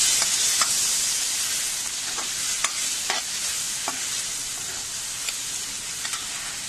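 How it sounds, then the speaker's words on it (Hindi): Tomato masala with turmeric, chili, salt and coriander powder sizzles steadily in hot oil, a constant close hiss broken by several sharp scrapes of a spoon stirring the pan. "अभी मसाला अच्छा फ्राई कर लेंगे।"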